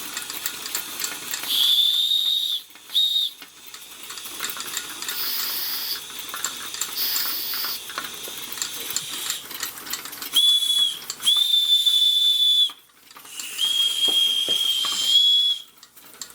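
A whistle on a small air-powered Weeden toy steam engine, several shrill, steady blasts of varying length separated by hissing and the soft chuff of the running engine, with no talking.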